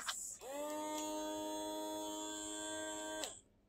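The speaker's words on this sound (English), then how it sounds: "Comes with this vacuum that is battery powered." A battery-powered Dr. Save portable vacuum pump, running on three AA batteries, hums steadily with a high electric whine for about three seconds. It switches on and off with clicks and is heard alone, close up.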